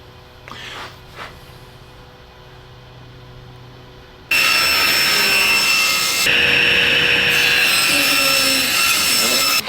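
A Makita 40V plunge router starts up after a few quiet handling knocks, then roars loudly and steadily as it cuts through wood, with a slight shift in tone partway through the pass.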